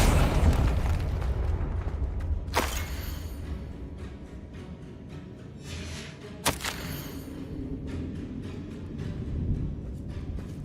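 Confringo fire spell blasts in Hogwarts Legacy, two sharp explosive bursts a few seconds apart over a rumbling, booming game backdrop.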